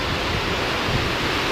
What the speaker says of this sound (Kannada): ಮಳೆ ಸಿಕ್ಕಾಬಟ್ಟೆ ಬರ್ತಿದೆ ಮರೆ